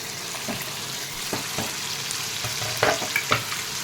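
Tomatoes fry in oil for a potato chicken curry, giving a steady close sizzle broken by a few soft stirring scrapes and clacks.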